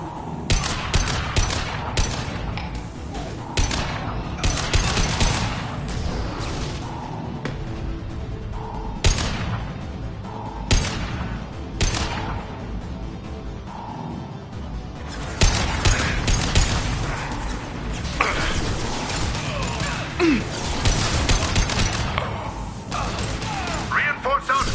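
Gunfire in the sci-fi shooter Mass Effect 2, rapid bursts of automatic weapon fire and thuds in a dense firefight, with shouted voices over the shooting.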